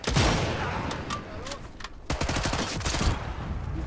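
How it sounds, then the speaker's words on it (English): Sustained gunfire in the SE5 video game, with a dense fusillade of sharp shots and bursts throughout, several loud close cracks standing out, and a voice speaking briefly. "I'm getting shot from somewhere."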